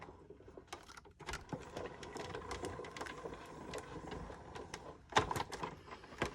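A die-cutting machine runs as paper sidetucks for a planner are fed through it, making a steady faint mechanical whirring and rapid ticking clatter, with a louder knock near the end.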